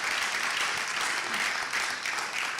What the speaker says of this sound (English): Guys, a much bigger round of applause.